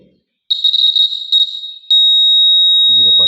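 An electronic buzzer in a test circuit measured with a digital multimeter sounds a steady high-pitched tone, first wavering and then holding constant, loud and close, with a brief voice at the end.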